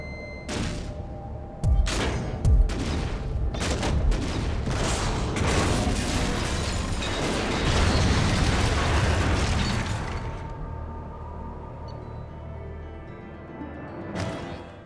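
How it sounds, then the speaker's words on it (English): Video game explosions from Mass Effect 2, a dense series of loud booms and bursts rolling together over about ten seconds before fading into a quieter rumble, with a final pop near the end. "A lot of these missions end with us running away from an explosion."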